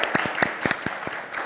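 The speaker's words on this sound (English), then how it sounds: "So clap it up one more time for Sara." Scattered handclaps from a panel audience greeting a panelist, a handful of distinct, fairly close claps spread unevenly over a brief moment rather than a full ovation.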